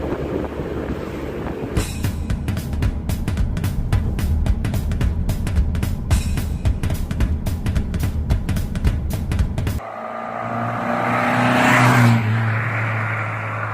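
A Triumph Spitfire 1500 sports car drives along with a steady engine drone and road rumble, then the tone shifts near the end as the engine note rises and swells before easing, with no talking.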